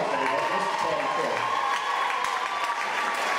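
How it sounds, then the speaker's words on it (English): A crowd applauds and cheers continuously for Patty Schultz at a Mock Rock show, dense steady clapping with some voices mixed in throughout. "Give her a round of applause,"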